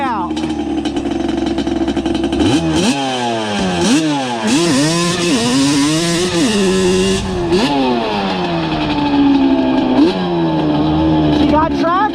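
A Yamaha Banshee 350 ATV, rebuilt as an Alpha Cub and running very rich jetting, revs loudly and climbs through the gears while riding on a cool day. The two-stroke wail rises and falls in repeated surges, close and continuous.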